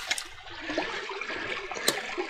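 Outdoors, a small stream runs out of a lake with a quiet, soft gurgling trickle. A few brief knocks and rustles sit over the flowing water.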